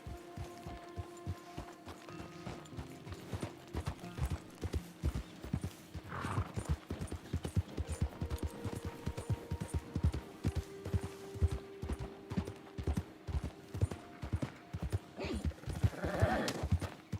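Horse hooves clip-clop in a steady walking rhythm throughout, with occasional soft whinnies and snorts nearby, in the video game Red Dead Redemption 2.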